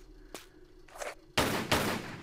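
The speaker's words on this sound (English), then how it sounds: "Shoot the boulder with the pistols." Pistol shots at a boulder in Tomb Raider, a faint early pop followed by two loud, sharp reports in quick succession with ringing decay.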